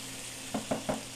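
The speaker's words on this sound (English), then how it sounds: "we're going to let this saute for about a couple minutes" Onions sautéing in butter in a pan while a beef tenderloin dish is being made, a steady broadband sizzle with three quick stirring scrapes close by near the end.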